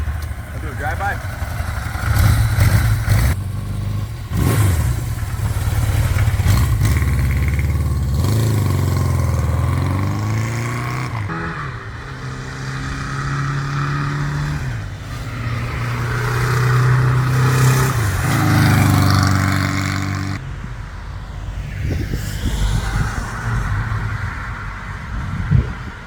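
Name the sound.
1982 Suzuki GS1100L motorcycle riding demo drive-by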